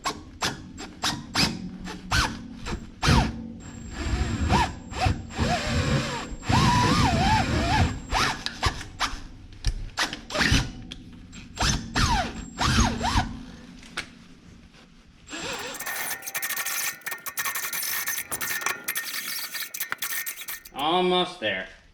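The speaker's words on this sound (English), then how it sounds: "So we're gonna use this, and hopefully we can drill out this hole." A drill bit works out a hole in an old steel 1950s Caterpillar roller frame, making intermittent grinding and squealing bursts with pauses between them, followed by a harsher, denser stretch of cutting noise.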